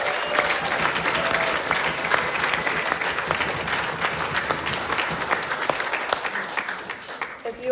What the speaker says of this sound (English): Let's give tonight's speaker a round of applause.